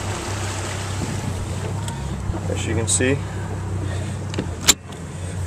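A 2014 Starweld 2000 Pro fishing boat idles on open water with a steady low engine drone beneath wind buffeting the microphone, while someone speaks over it.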